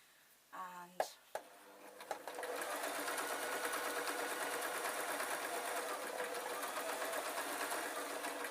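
Domestic sewing machine stitching a tweedle muffler with wadding inside, heard close: a few handling clicks and thumps, then a steady, fast, even mechanical whir that runs without break to the end, with no talk over it.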